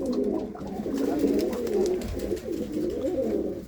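A close flock of pigeons, mostly grown males, both white and black birds, coos steadily in overlapping low throaty calls with no pause throughout.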